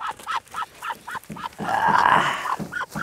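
Newly hatched Muscovy ducklings give a rapid run of shrill, evenly spaced peeps at close range, briefly blurred by a louder rustling burst before the peeping returns.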